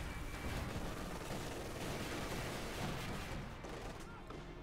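Dense, continuous battle din from Company of Heroes 2, with sustained machine gun fire from a pair of light machine guns mixed into booming explosions and shelling, loud and steady throughout.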